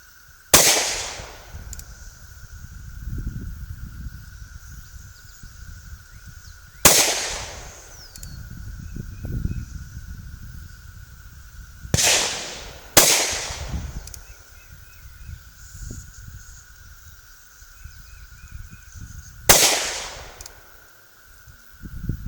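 Five sharp, loud gunshots from an NAA Black Widow .22 magnum revolver with laser grips, fired a few seconds apart with rustling and handling noise between shots.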